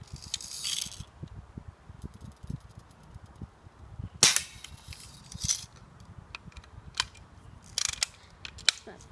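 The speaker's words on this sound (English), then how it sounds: "I'm going to shoot 5 shots at the target" A Red Ryder BB gun fires at a target, giving sharp mechanical snaps and clicks of cocking and shooting, a few loud cracks standing out over a noisy outdoor background, with no talking.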